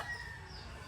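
Chickens on a farm of gamefowl breeds, heard as a faint, brief stretch of clucking without talk.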